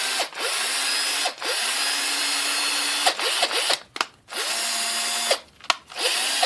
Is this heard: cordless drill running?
yes